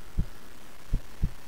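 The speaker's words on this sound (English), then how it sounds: "That heartbeat, though, is pretty spooky." Spooky heartbeat from the horror video game One Late Night, deep low thumps, one alone and then a closer pair, over a quiet hum.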